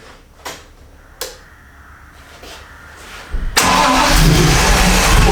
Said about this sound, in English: Come on then, let's give it a crank.